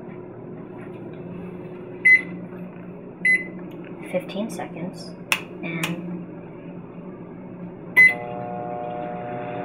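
A microwave oven hums steadily while running, with a few short electronic beeps and clicks along the way. People talk over it at close range as a milligauss meter checks its electromagnetic field.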